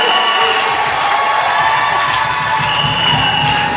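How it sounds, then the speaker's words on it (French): Church congregation cheering and acclaiming the Lord during a prophetic service, a loud, dense crowd roar with shouts and whoops sustained throughout. "Est-ce que quelqu'un peut acclamer le Seigneur?"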